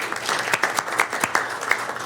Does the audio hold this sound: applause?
yes